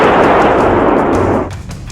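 A Bofors artillery gun fires with a loud, close blast that rolls into a broad roaring rumble and then fades.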